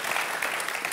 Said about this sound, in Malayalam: കയ്യടിക്കൂ.